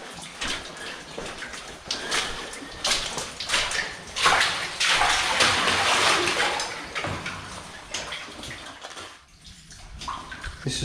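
A waterfall outside a copper mine, heard from inside the mine as a steady, fairly loud broadband rushing roar that surges and dips, with a brief quieter gap near the end.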